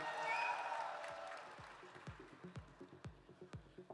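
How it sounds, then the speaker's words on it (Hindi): Applause welcoming a guest speaker at a stock-market talk event, a broad crowd swell at first that thins into scattered individual claps fading out. "जोरदार तालियों से स्वागत करेंगे सर का"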